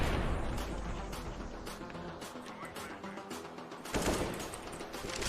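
Rapid gunfire in the video game CS:GO, a dense run of sharp shots that rattle steadily and then swell into a louder burst near the end, mid-range and without speech.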